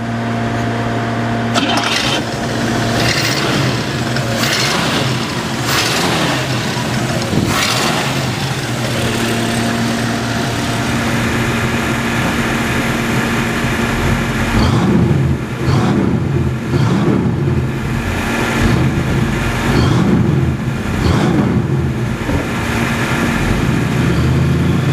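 A 1960 Pontiac Bonneville convertible's engine runs steadily with a low, continuous rumble, picking up into sharper revs and surges partway through, heard up close and alone.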